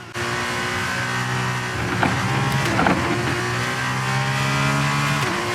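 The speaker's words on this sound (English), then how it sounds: "the F2 car sounds fantastic" An F2 race car engine in the video game F1 23 roars at high revs at Zandvoort, its pitch shifting through gear changes with brief rises, continuous and fairly loud with no talking.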